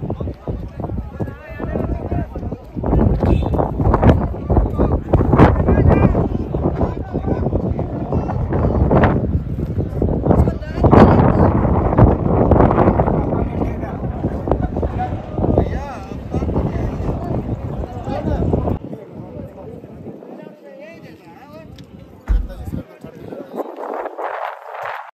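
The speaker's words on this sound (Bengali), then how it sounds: "হাওয়াটা প্রচুর জোরে দিচ্ছে বন্ধুরা" Strong mountain wind near Nathu La buffets the microphone in loud, gusty roaring bursts, mixed with a person talking over it. The wind then drops away to quieter stretches.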